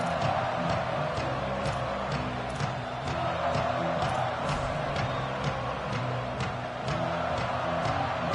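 A football stadium crowd roars and cheers in a loud, steady wash of noise that stays dense throughout, with scattered shouts rising above it.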